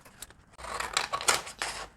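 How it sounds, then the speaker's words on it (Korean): Scissors snipping through greaseproof paper, several quick close crisp cuts in a short irregular burst after a brief pause, with no voices. "가위로 오릴 때는 오릴 부분만"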